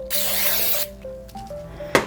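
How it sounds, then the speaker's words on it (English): Cooking spray hisses steadily into a cake pan for under a second, followed by faint clatter and a sharp knock near the end. "just kind of spray the inside of your pan"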